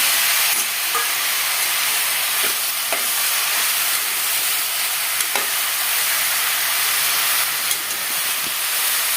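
Sliced radish and chopped tomato fry in a pan for radish lentil sambar, giving a loud, steady, dense hiss of sizzling with a few faint clicks of a spatula, continuous throughout and with no voices.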